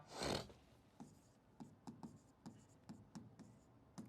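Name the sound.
writing on a board during a lecture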